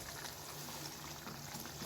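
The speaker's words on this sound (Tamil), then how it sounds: "இப்போ நல்லா கொதிக்குது." A pan of mealmaker (soya chunk) curry bubbles and simmers steadily, a soft continuous gurgling hiss with no voices, close and quiet.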